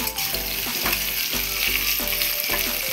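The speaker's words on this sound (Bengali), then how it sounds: "কুচানো পেঁয়াজ দিয়ে একটু নাড়াচাড়া করে নেব" Chopped onions frying in a pan with a constant close sizzle, broken by rhythmic scraping strokes as they are stirred every half second or so.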